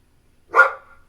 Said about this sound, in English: Why are you barking at turkey?